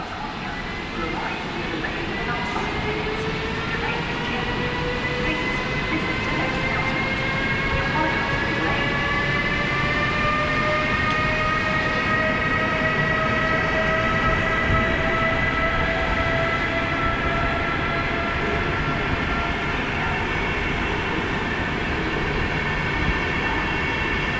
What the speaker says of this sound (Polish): Skład rusza punktualnie.